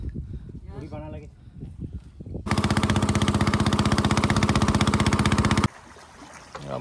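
A dhoni fishing boat's engine on a coastal mudskipper-fishing outing kicks in after a voice speaks, chugging loudly in a fast, even pulse for about three seconds before cutting off abruptly.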